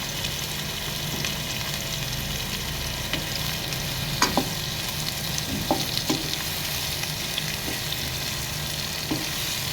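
Four medium onions, cut up, frying gently in hot oil in a pan, a steady close sizzle throughout with a few sharp clinks and scrapes of stirring.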